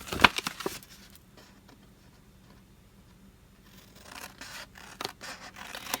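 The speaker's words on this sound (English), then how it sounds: "Next, we're going to cut up to the score line on the rest of these panels." Scissors cut through paper box panels up to a score line, with a burst of snipping and rustling at the start, a quiet stretch, then more crisp cuts and scratches toward the end.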